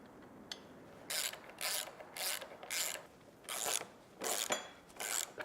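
A nut and bolts are tightened to secure a safety clip onto a gate or wall fence, heard as a series of about eight short ratcheting spanner clicks in steady bursts, close and fairly quiet.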